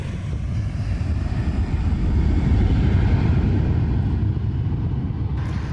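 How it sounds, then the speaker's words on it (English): Airbus A318 airliner in the flying display at Farnborough Airshow 2002, a loud continuous jet engine roar swelling slightly midway and rumbling on without voices. "Airbus had two brand new aircraft in the flying display, including the A318."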